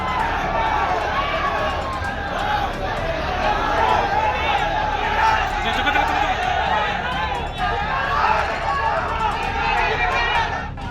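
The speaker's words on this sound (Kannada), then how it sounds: "ಪ್ರದೀಪ್ ವಿರುದ್ಧ ಕುಮಾರಸ್ವಾಮಿ ಬೆಂಬಲಿಗರು ಘೋಷಣೆ ಕೂಗಿದ್ರು" Political supporters at a chaotic Kempegowda Jayanti event in Chikkaballapura, a dense crowd shouting and chanting together in a continuous loud roar of overlapping voices.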